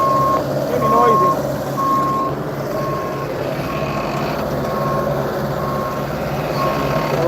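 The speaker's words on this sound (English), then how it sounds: "I left it in reverse, it's beeping and beeping and beeping." A machine left in reverse at a soil screener sounds steady, evenly spaced reversing beeps over a loud, constant engine rumble, and a voice talks now and then underneath.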